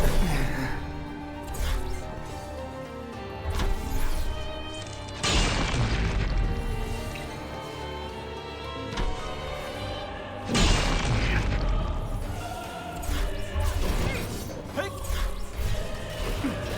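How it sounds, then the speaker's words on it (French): Booming explosions and heavy mechanical crashes from a Final Fantasy XV battle on PS5, loud layered impacts with two big blasts standing out amid grinding, creaking game effects, no talk over them. "Explosion!"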